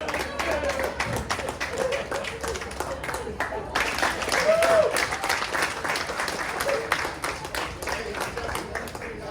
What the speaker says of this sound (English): This show got a nice applause break